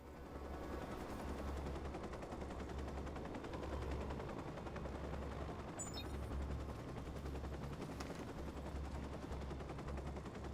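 Rapid automatic assault rifle fire from a video game rattles in continuous bursts over a dense, steady din, heard moderately loud without any voices.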